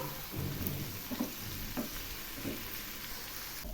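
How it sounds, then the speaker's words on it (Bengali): Spices with chili powder and a splash of water are sautéed in a pan for pickled eggplant curry, giving a steady close sizzle broken by occasional stirring scrapes, with no talking. "এখন আমি এই মশলাগুলো খুব ভালো করে কষিয়ে নেব"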